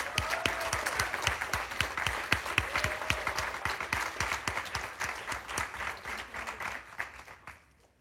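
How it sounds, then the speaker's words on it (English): A room of people gives a round of applause for someone at a celebration, crisp nearby claps over a dense crowd wash that fades out at the end. "we just want to have a round of applause for Claire and her service this year"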